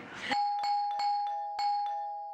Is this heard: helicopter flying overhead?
no